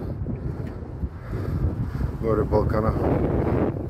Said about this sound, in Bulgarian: Но започва да бъде много силен вятър.